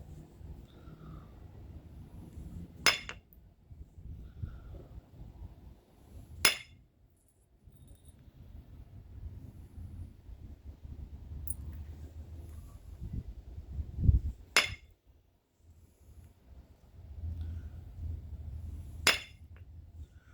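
Flint knapping to shape a stone knife blade: four sharp, isolated clicking strikes spaced a few seconds apart over a quiet low rumble of handling and background noise.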